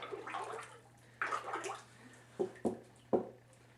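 A pottery piece dipped into a bucket of stony matte liquid glaze, soft sloshing and swirling followed by a few distinct drips and splashes, quiet and close.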